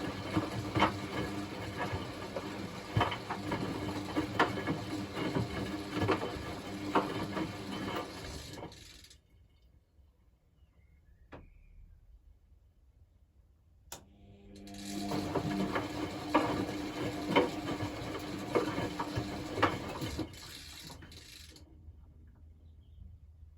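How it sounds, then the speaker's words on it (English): Hotpoint Aquarius WMA37 washing machine drum tumbling a load in steady, rumbling bursts, with a quiet pause between two busy stretches of clattering motion, heard close and alone. "it's still kind of just tumbling away there"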